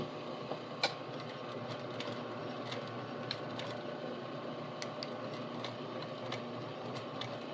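A sewing machine runs steadily while top stitching the perimeter edge of a quilt with a quarter-inch presser foot, a quiet continuous mechanical whir broken by occasional small clicks and taps.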